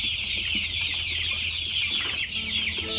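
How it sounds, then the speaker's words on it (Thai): A dense, continuous chorus of three-week-old Pradu black-tailed chicks peeping and clucking close by, steady and loud throughout. "นี่ไก่ประดูหางดำ สามสัปดาห์เนาะจ้ะ"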